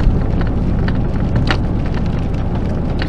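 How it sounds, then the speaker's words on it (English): Steady heavy rain pouring down at a marina on Lake Superior, a dense continuous hiss with low rumble throughout, fairly loud and close, no voices. "The rain has slowed a little bit, but it's still coming down."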